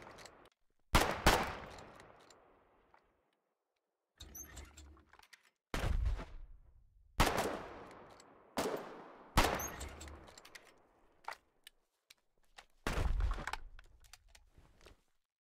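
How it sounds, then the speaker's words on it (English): Gunfire in the video game Foxhole, separate loud shots and short bursts spaced by quiet gaps, each crack trailing off with an echoing tail. "Hey, you shot me!"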